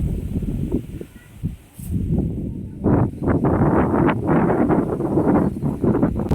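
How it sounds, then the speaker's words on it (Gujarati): Strong gusts of wind buffet the microphone in loud, uneven bursts, with rustling underneath and no talking. "સુપર પવન જોઈ મિત્રો, તમે જોઈ રહ્યા છો પવન એટલે જોરદાર પવન અત્યારમાં થઈ ગયો છે"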